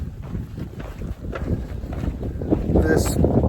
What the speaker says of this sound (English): this bone chilly wind came back